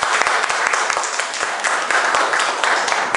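Sustained applause from a seated audience welcoming the next presenter at a Kaohsiung self-introduction meetup, steady crowded clapping throughout at moderate loudness.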